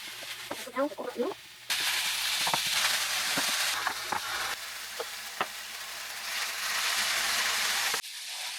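Ground beef from frozen burger patties browning in a pan, steady loud sizzling and frying with occasional stirring scrapes and a brief voice at the start.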